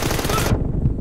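Loud, dense automatic gunfire from the PUBG Mobile mobile game, played in a team deathmatch on a Xiaomi Mi 10T, rattles continuously, then cuts off abruptly halfway, leaving a lower rumble.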